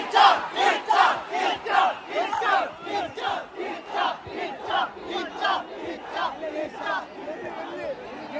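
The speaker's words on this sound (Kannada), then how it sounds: "ಆ್ಯಂಡ್ ಕ್ರೌಡ್ ಎಷ್ಟಿದ್ರು ಅಂದರೆ ಓ ಮೈ ಗಾಡ್" A huge crowd of fans at Kiccha Sudeep's MAX audio launch at Orion Mall chants and cheers in rhythmic, pulsing shouts, loud and sustained.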